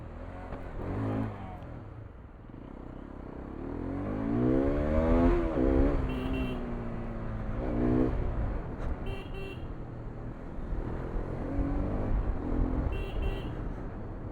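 A Hero Xpulse 210 motorcycle revs up through several rising engine pulls while being ridden, the pitch climbing and falling between shifts, with wind noise and a few brief beeps.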